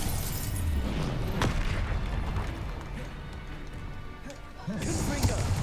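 Confringo explosion spells from Hogwarts Legacy burst with sharp booming cracks amid busy combat noise, one striking early and another flaring near the end, over a continuous rumbling backdrop.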